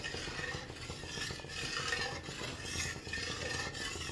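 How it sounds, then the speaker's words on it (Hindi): Semolina halwa being stirred in milk and ghee in a pan: a steady, continuous scraping and churning, close and fairly loud, with a faint bubbling sizzle underneath and no talking. "तो बस इसको चलाते हैं और लगातार चलाते रहते हैं"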